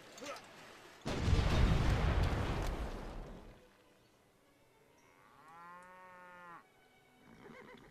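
Cattle mooing in the strategy game Civilization 5 comes in after a heavy, booming rumble of explosion-like game noise: one clear, drawn-out moo, moderately loud, with faint background sound afterward.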